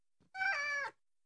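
A cat lets out a single clear, close meow of about half a second, with a faint soft sound just before it and quiet afterward.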